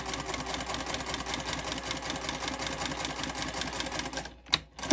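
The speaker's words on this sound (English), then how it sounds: "sew down each of the longer sides there with a 1/4 inch seam allowance. And we'll just do a back stitch" A sewing machine running a quarter-inch seam along the long side of a Christmas project, its rapid even needle chatter continuing steadily before stopping, then a couple of short handling knocks.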